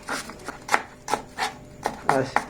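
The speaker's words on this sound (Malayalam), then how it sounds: "ആദ്യം ആവശ്യമുള്ള സവാള കട്ട് ചെയ്തെടുക്കണം" Onions being cut on a board in a home kitchen, about eight quick knife chops in an uneven rhythm, close and moderately loud, with no speech.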